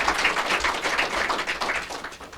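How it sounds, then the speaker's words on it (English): Applause at a mayor's press conference, a small group clapping in a brisk, uneven rhythm, close and steady throughout with no talking over it. "Let's have a round of applause"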